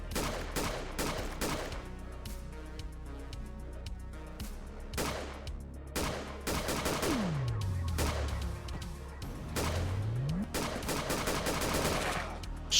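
Gunfire in the Bullet Noir video game comes as rapid bursts and single loud shots mixed with game music, with sweeping whoosh effects between volleys, close and dense throughout.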